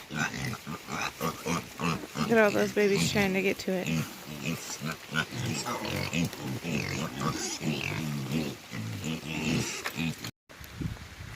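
Pigs grunt and oink at breakfast time on a rain-soaked farm, a steady, close run of grunts with a person talking over much of it.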